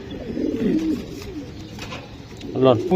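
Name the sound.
red checker racing pigeon cooing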